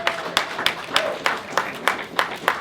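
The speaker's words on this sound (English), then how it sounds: "Give them a round of applause." An audience at a live event claps together in a steady, even rhythm, sharp crisp beats repeating about three times a second at moderate loudness.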